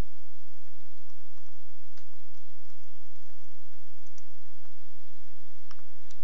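Computer mouse clicks while a GIS spatial statistics tool is run, faint scattered clicks over a steady low hum, with no talking.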